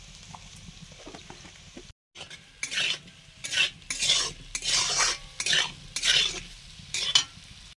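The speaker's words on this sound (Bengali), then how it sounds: "আলু ভাজা হয়ে গেছে।" Frying potatoes are stirred vigorously in a pan, with repeated loud bursts of scraping and sizzling in an uneven rhythm. A metal spoon clinks against the pan close by, with a short silent gap near the start.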